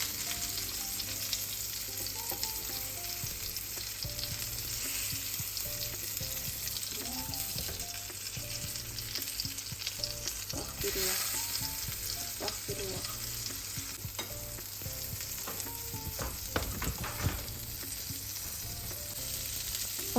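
Chicken cutlets fry in a small amount of oil in a pan over medium heat, giving a steady close sizzle with faint clinks and scrapes throughout, no voices.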